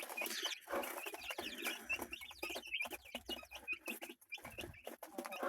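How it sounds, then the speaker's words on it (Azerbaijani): Mother hen clucking over her chicks in a home brood, with many soft high peeps and clucks running continuously throughout, close and busy. "Ana toyuqdur, altında da balaları."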